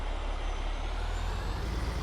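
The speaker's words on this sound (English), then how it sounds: "Jump back in the truck" A truck engine rumbles steadily in Farming Simulator 22 on a farm map during beet harvest, with a constant low drone and no talk.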